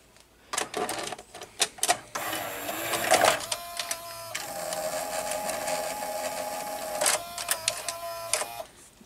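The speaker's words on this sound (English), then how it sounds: "the cassette carriage motor, just like in the Toshiba VHS VCRs, is quite noisy" The cassette carriage motor of a Toshiba V-M41C Beta VCR whirs and grinds as the tape mechanism loads, broken by clicks and clunks, fairly close with no voices.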